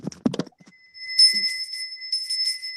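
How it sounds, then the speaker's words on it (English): Bright, sustained ringing tones sound in two bursts after a few quiet spoken syllables, with a steady high pitch fading between strikes. "The bells are ringing."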